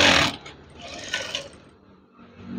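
A sewing machine runs slowly over red curtain fabric, producing close mechanical whirring and ratcheting in short uneven bursts with brief pauses between them.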